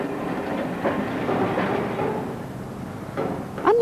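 A train runs along the harbour side at Weymouth onto the quay, a steady mid-loud rumble of wheels and carriage with a few soft knocks and a brief squeal near the end.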